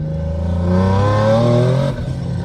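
A turbocharged VQ35 engine on a dyno revs up at about a quarter throttle, rising to a loud, close, droning pitch and then dropping back as the throttle closes.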